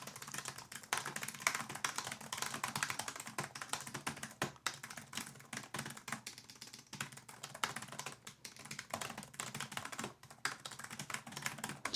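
Rapid, continuous typing on a computer keyboard, a dense clatter of keystrokes running steadily for about twelve seconds with no voices.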